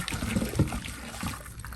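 Very hot water is dumped into a household drain in one quick sloshing pour and gurgle, close and fairly loud, lasting under two seconds with no talking.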